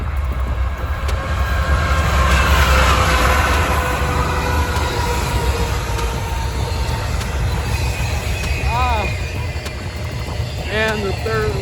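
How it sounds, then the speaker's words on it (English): Two trains pass by at a railfanning spot, a loud continuous rolling rumble of rail cars with squealing wheel screeches near the end, while people talk. "We have 2 trains coming."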